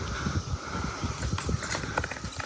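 A horse's hooves clip-clop in a steady, quick rhythm, fairly close and continuous over a low background rumble.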